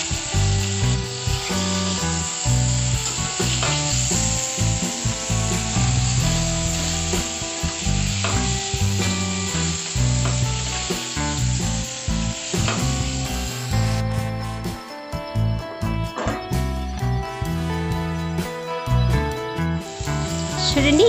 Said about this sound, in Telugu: చూడండి ఇలా ఫ్రై అవుతుంటేనే మంచి స్మెల్ వస్తుంది